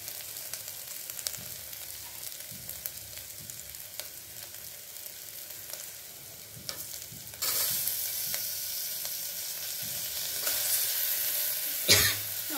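Onions and tomatoes frying in a pan for a vegetable kurma, a steady close sizzle with light stirring taps that swells louder as fresh ingredients hit the oil, then a sharp clatter near the end.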